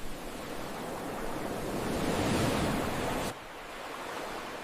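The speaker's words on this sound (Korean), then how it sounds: "파도 소리가 크게 울렸죠." Ocean waves crash and wash onto a beach at night in a steady, loud roar of surf that swells, then drops suddenly to a softer rush near the end.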